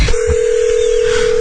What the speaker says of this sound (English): Dude, listen to the ring that Tom Green has.